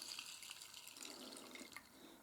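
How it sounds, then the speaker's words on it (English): Water poured into a miso soup bowl, a soft continuous splashing stream heard close and faint, alone without talk. "you pour water"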